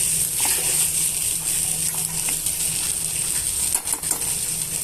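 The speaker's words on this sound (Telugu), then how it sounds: "ఇవన్నీ కూడా బాగా మిక్స్ చేసుకోవాలండి" Crushed raw garlic stirred into okra pieces frying in oil in a pan, a steady loud sizzle with light scraping and a few clinks of a spoon against the pan, no voices.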